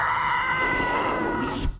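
A voice imitates the Howie stock scream, giving one loud, sustained, strained cry of nearly two seconds that breaks off sharply at the end.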